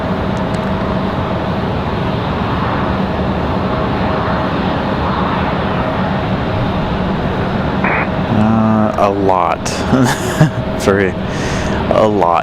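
At Raleigh-Durham airport, a McDonnell Douglas MD-11 jet produces a steady, broad engine roar that fills the scene, with someone talking over it near the end.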